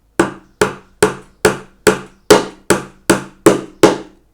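Ten evenly spaced hammer blows drive nails into a wooden beehive super frame, each a sharp, close knock with a short decay, in a steady rhythm with no talking.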